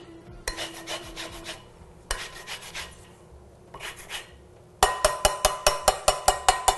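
Orange peel scraped over a grater for zest in a home kitchen, heard as bursts of dry rasping strokes, then a quicker run of evenly spaced scrapes toward the end, close and clear with no talking.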